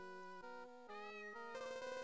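A cat meows in the RPG Maker game Red Trees, a short, tonal electronic rendition with stepped pitches over about two seconds, ending in a brighter buzzy burst.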